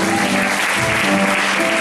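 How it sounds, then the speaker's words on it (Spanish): Church congregation applauding together, a dense, loud and continuous burst of clapping throughout a short stretch, with a faint hum of voices beneath. "¿Cuándo pueden dar un aplauso al Señor?"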